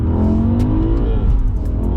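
A BMW E60 M5 with a roughly 500-horsepower engine revs hard while accelerating, a loud, steady rising engine note heard from inside the car.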